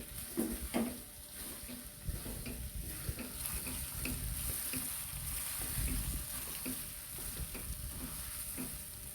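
Pasta and packet spices are stirred in a pan, a soft continuous sizzle under repeated scraping and shuffling strokes of a spoon, moderately close and steady throughout.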